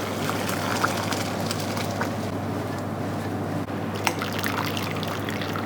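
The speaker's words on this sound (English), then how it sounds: "at this stage I'm going to drain my rice" Water from nearly cooked boiled rice pours off through a strainer, a steady close trickling and splashing with a few small drips.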